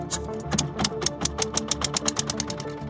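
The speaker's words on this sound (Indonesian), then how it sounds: "Mesin diesel terus menderu" Diesel engine of a Sekonting fishing boat running steadily, with a loud, regular chugging knock that repeats rapidly and evenly throughout, close up and without talk.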